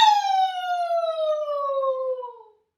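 A voice imitates a dingo howling at the moon during kids' yoga, a single loud "ow" howl that glides slowly downward and fades out after a couple of seconds.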